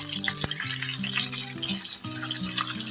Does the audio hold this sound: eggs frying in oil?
yes